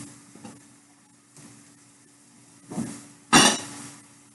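Chunks of potato dropped into a beef stew pot on top of the meat land in a few soft thuds with brief clatters, the last drop loudest and clinking against the pot, with no talking.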